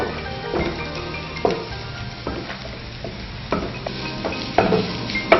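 Chopped onions fry and get stirred in a pan for a Mughlai egg curry, a steady close sizzle broken by sharp scrapes and clacks of the spoon at irregular moments, with no voices.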